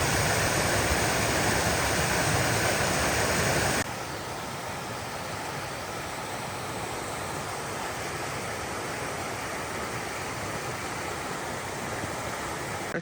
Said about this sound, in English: Top of the waterfall.